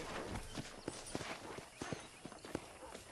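Horse hooves clip-clop at an unhurried walking pace on a hard surface in the video game Red Dead Redemption, fairly close, with a faint background and no talking.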